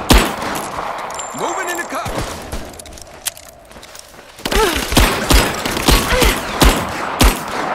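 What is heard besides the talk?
suppressing gunfire in the video game Rise of the Tomb Raider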